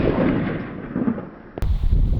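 A single sharp 9mm handgun shot fired at a stacked pile of skateboards cracks loudly, cutting into a booming rumble of an earlier report, close and forceful.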